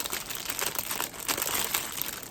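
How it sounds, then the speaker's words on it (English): Packaging crinkles steadily while a DAC is unboxed, a dense, close rustle of plastic wrap and paper with brief louder crunches throughout and no talk. "Sorry about the crinkling"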